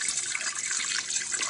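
Dry malt extract wort for a beer starter being poured through a sanitized funnel into a bottle: a continuous splashing, gurgling liquid stream, close and steady throughout, with no voices.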